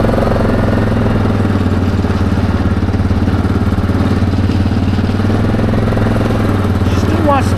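An ATV engine runs steadily and loudly up close during a ride near Sauble Beach, with a continuous droning rumble throughout.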